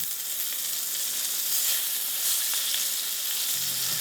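Flour-coated smelts fry in oil in a large, deep frying pan, giving a continuous bright sizzle and crackle close up, with a faint low clunk near the end.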